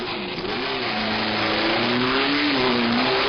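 A race car at the 1970 12 Hours of Sebring endurance race, its engine droning loudly and steadily with a rising and falling pitch as it drives past.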